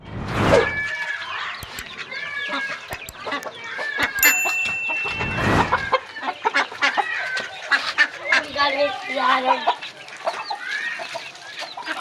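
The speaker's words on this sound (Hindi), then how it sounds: "मैं हुसैन का मुर्गा चोरी करके लेके जा रहा हूँ।" Close chicken clucking and squawking in bursts, with wing flaps and rustling; a rooster's calls repeat over a busy farmyard background.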